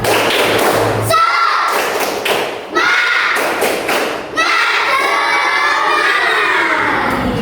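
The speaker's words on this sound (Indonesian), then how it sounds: "Tepuk semangat." Schoolchildren in a classroom doing a rhythmic spirit clap, loud thumping claps in bursts with excited children's voices shouting along close by.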